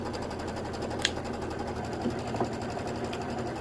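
An embroidery sewing machine stitches a quilt block with a steady, close mechanical whir and fast rhythmic needle ticking, plus a couple of faint clicks, with no voices.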